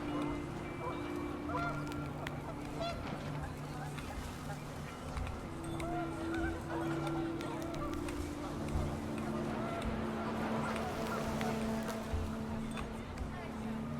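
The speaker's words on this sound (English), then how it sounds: "The wind picked up, and panicked geese appeared and quickly went." Panicked geese in the video game What Remains of Edith Finch honk repeatedly over a gusty wind backdrop, the calls overlapping and moderately loud, with a voice talking faintly over parts of it.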